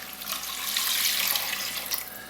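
Two cups of water are poured into a pot of pulled pork with rub and a beef bouillon cube. The result is a steady, close gushing rush that lasts the whole moment, with no talking.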